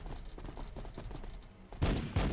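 Gunfire in Warhammer 40000 Battlesector, a multiplayer battle between Blood Angels armies, rattling in a rapid stream of shots that swells into louder, denser bursts near the end.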